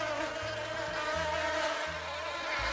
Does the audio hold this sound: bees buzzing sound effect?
yes